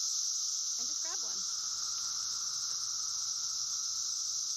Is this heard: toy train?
no